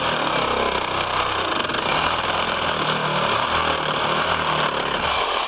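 A Sears cordless Sawzall reciprocating saw cuts steadily and close up while working on a dock, a continuous loud buzzing motor drone with rapid blade rattle that stops abruptly at the end.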